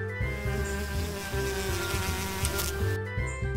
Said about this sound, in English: My wings make a buzzing sound when I fly.